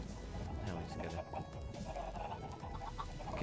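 Chickens in the Minecraft video game cluck faintly and intermittently within a soft, busy game background.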